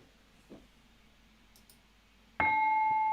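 Faint background hiss with a soft click or two, then a bright bell tone strikes suddenly and rings on steadily near the end.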